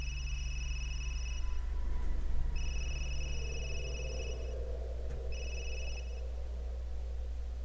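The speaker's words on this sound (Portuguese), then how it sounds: "Telefone tocando." A telephone rings in Resident Evil Village, three electronic rings in a repeating pattern with short pauses between them, steady and fairly loud over a low droning background, no talking.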